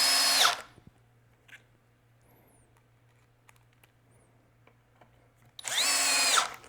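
A power drill whines in two short bursts while drilling pilot holes, one at the start and one at the end, with a quiet gap of faint clicks and handling noise between.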